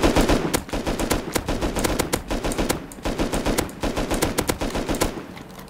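LR-300 assault rifle in the video game Rust, fired in rapid bursts: loud, close, dense runs of shots with brief gaps between bursts.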